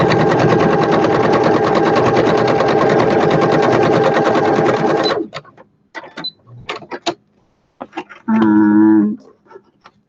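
A sewing machine runs steadily at speed for about five seconds while straight-stitching pieced fabric scraps, then stops; scattered clicks and handling noises follow before a short second burst of stitching.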